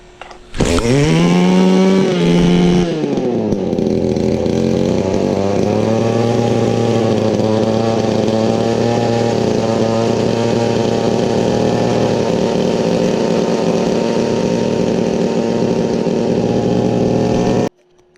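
A Featherlite gas weed eater engine fires up with a brief high rev, then settles into a loud, steady, buzzing idle that runs on for many seconds before cutting off abruptly.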